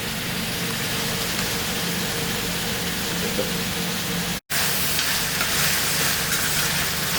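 Tomatoes and vegetables simmer and sizzle in a pot alongside smoked herring, a steady close bubbling hiss that runs unbroken apart from one brief cut, with no talking.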